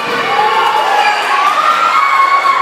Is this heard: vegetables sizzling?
no